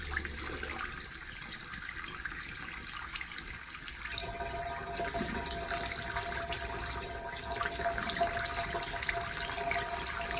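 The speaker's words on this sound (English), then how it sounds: "now I'm going to rinse my face" Running water at a bathroom sink pours continuously while a face is rinsed, a close, steady hiss with slight splashing changes partway through.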